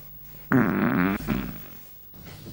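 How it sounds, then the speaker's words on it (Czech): A loud, close fart blares for under a second with a buzzing, wavering tone, then trails off into quieter rustling in a comedy debate setting. "teď jste nám slíbil, že tady nebudete dneska prdět"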